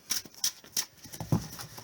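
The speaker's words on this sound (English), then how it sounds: "We're going to give this some shuffling," A deck of Magic: The Gathering cards is being shuffled by hand, giving quiet, close papery riffles and soft slaps in a few brisk bursts with no voices.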